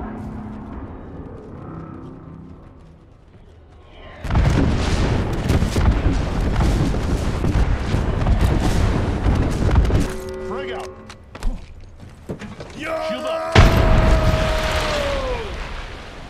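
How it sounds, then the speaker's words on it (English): Airstrike explosions in the battle royale game Apex Legends, heavy booms and rumbling blasts rolling on for several seconds, loud and close, with scattered game effects and a whistling tone near the end. "Calling the airstrike."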